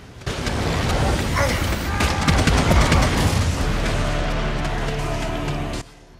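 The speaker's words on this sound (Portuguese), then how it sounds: "Alguém soltou uma granada ali no meio que matou todo mundo, né?" A grenade explodes amid gunfire in the Warhammer 40K Eternal Crusade video game, a loud, dense burst of blasts and shots that fills several seconds before cutting off abruptly.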